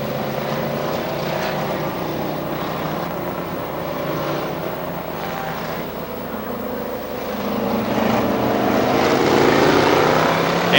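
Race cars roar off under a green flag at Star Speedway in New Hampshire, a dense continuous engine drone that builds louder toward the end as the field accelerates.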